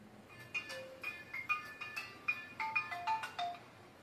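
A melodic electronic ringtone plays a quick, repeating pattern of bright tones, fairly quiet with no voices.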